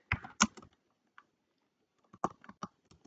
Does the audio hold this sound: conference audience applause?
no